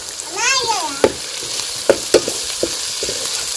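Mint and coriander frying in oil in a pan for egg biryani, a low sizzle with several sharp spoon scrapes and knocks spaced through, heard up close, plus a brief whistling tone near the start.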